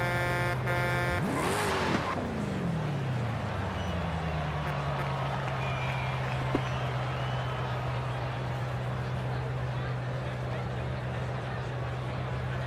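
Dodge Demon in Forza Horizon 5, driven with a wheel and shifter: a brief rising engine rev and tire squeal sweep past at the start, then a steady droning engine tone holds under an ambient road wash.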